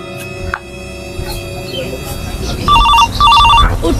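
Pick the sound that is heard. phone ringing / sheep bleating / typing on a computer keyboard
phone ringing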